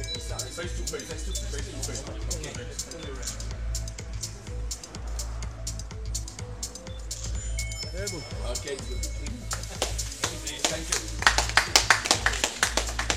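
A crowd at a kickboxing championship weigh-in breaks into applause near the end, many hands clapping loudly after a stretch of amplified talking over a hum.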